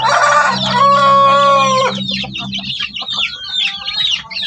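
Loud, close clucking and crowing-like calls from chickens among one-month-old native chicks, with a sustained crow-like call at first followed by a run of short chirps and clucks.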